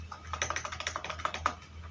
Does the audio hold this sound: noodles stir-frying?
no